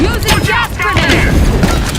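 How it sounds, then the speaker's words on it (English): Gas grenade going off in a video game, a loud booming burst mixed with dense game sounds and voices that continue over it throughout. "Using gas grenade."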